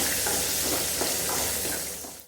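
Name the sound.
frying in hot ghee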